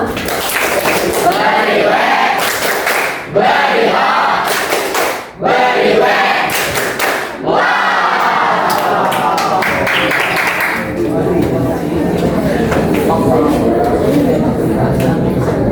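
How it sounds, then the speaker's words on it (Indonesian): A class audience of students bursts into applause in several rounds of loud clapping and cheering, mixed with voices. "Beri tepuk tangan, wow."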